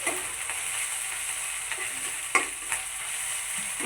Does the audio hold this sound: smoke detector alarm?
no